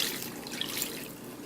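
Lime Jell-O dissolved in a cup of water is poured into cake batter, giving a soft, steady liquid trickle that runs faintly and continuously for a moment.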